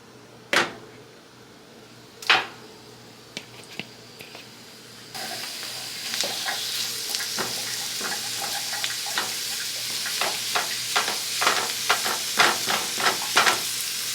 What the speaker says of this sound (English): Okay, y'all, so I'm about to add in my steak